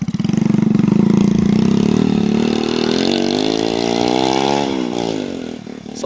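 A small motocross bike fitted with a Honda Pop 100 engine idles loudly up close, then revs up steadily in a rising buzz before dropping back, with no talk over it.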